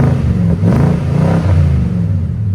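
A Nissan Titan with a 5.6L V8 revs hard through an aftermarket exhaust, a loud, steady roar with low rumble swelling and easing across a couple of throttle blips, close by and alone.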